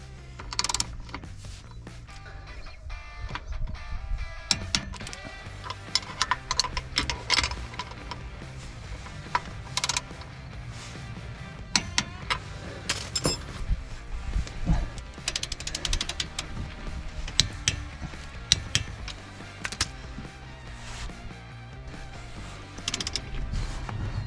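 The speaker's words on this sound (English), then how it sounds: "Torque them down to 50 foot-pounds." A torque wrench tightens the steering stabilizer bolts on a 2019 to 2024 Cummins truck to 50 foot-pounds, giving repeated close ratchet clicks in bursts with metallic clanks and creaks between them.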